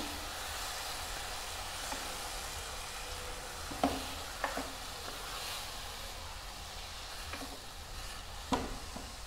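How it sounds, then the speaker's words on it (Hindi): Chopped guava sautéing in a pan for halwa, a soft, steady sizzle with a few sharp scrapes and taps of a spoon stirring against the pan. "इन्हें मैं अब दो मिनट के लिए अच्छे से भूनना है"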